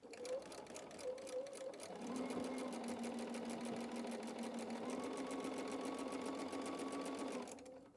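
A sewing machine stitches fabric corner to corner for a quilted door banner, a steady, close, rapid mechanical whirr that speeds up after a brief start and runs continuously before stopping.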